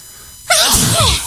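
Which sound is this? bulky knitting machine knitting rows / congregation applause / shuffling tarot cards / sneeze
sneeze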